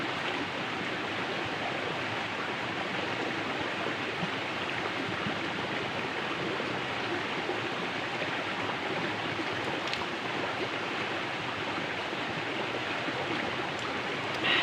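Steady rushing of a river stream flowing through a forest on the slopes of Pangrango, continuous and broadband, close and fairly loud with no other sounds.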